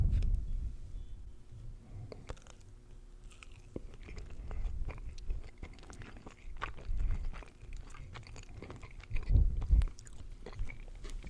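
French fries from Chili's being chewed close up, soft repeated crunching and biting sounds with low mouth noises, steady through the stretch and growing louder near the end.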